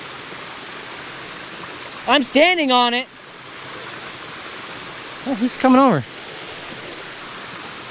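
Crater Creek Falls, a waterfall about 100 feet tall running at low water, gives a steady soft broadband rush throughout, with two short bursts of talk over it.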